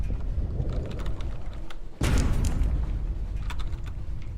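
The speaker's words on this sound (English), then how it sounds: "Oh, that's a torpedo." Torpedo explosion in the Sunless Sea video game: a sudden loud blast bursts in midway over a steady low rumble and faint clicking, then its boom lingers to the end.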